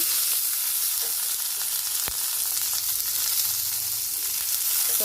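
Curry leaves, green chili and dried red chili fry in hot oil with a steady, close crackling sizzle and one sharp pop partway through.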